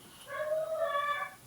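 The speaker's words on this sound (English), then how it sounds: "Oh, we've got a sad dog." A pet dog whines softly in a thin, wavering, high-pitched whimper, one drawn-out plaintive cry heard faintly in a quiet room.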